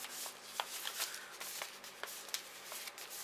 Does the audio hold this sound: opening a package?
yes